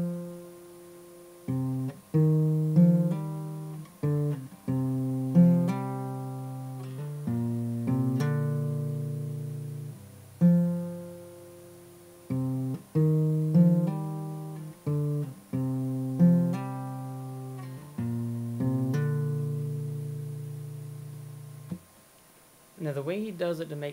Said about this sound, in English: So the transitions and the hammer-ons without any chords sounds like this.